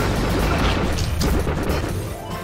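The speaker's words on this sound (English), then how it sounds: "Fire Z Cat Cannon!" Cat Cannon firing in The Battle Cats: a loud booming blast with crashing impacts that rumble on for a couple of seconds, then taper off.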